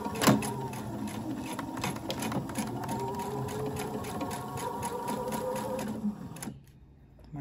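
A sewing machine runs steadily at close range as it back stitches the end of a dart in fabric, its rapid needle chatter going on for about six seconds and then stopping abruptly.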